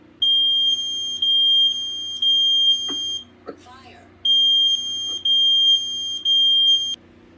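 A piercing smoke alarm beeps in long repeated pulses, broken by a brief pause with some handling noise and a voice, then resumes its pattern.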